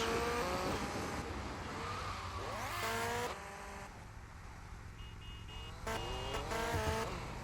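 A motorcycle engine drones steadily in GTA Vice City, its pitch climbing and dropping through gear changes over a dense, constant game background.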